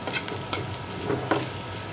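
Cumin seeds sizzling in hot oil in a pan while cooking pangas fish bhuna with onion, a steady close crackle with occasional faint stirring scrapes and no talk.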